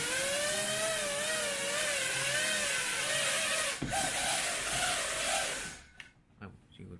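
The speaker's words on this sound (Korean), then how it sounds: "시동키를 아래로 내리시면 시동이 걸리고요" A Striker model jet turbine engine spins up with a loud, steady high whine and wavering tones. The whine holds for several seconds, then cuts off abruptly into a few fading clicks and rattles.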